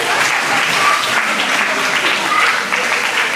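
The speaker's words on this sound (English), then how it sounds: "Give yourself a round of applause." Applause from a workshop audience after an exercise session: a full round of clapping, loud and continuous, with a few voices and cheers mixed in.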